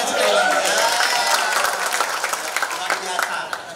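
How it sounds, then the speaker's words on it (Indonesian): Sustained applause from a large crowd at an outdoor bakmi festival in Batam, loud and dense at first and then thinning into scattered clapping, with a few voices mixed in. "Sekali lagi Pak, tepuk tangannya sekali lagi."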